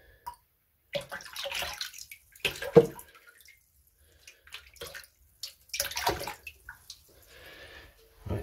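Liquid hydroponic nutrient poured into a tank for a GT205 NFT system, heard as short splashing, trickling bursts separated by quiet gaps, fairly close and moderately loud.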